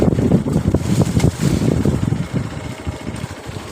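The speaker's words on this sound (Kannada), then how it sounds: "ಹೋಗ್ತಾ ಇದೆ ಬೈಕ್." Motorbike riding along a rough, unpaved forest road, a steady close engine rumble mixed with wind buffeting on the microphone and bumpy jolts throughout, no talk.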